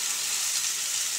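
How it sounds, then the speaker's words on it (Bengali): Black cumin seeds temper in hot oil, giving a loud, steady, bright hiss of sizzling that fills the whole moment without pause. "এবার আমি কালো জিরে ফোড়ন দিয়ে দিলাম তেলের পরে"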